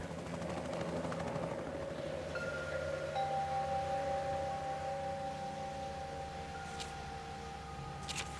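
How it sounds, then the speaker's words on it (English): Rescue helicopters hover over the wreck site of a crashed airliner, a steady distant rotor drone with a low continuous hum. Faint tonal tones drift above it, and no one speaks. "Rescue helicopters were soon at the crash site"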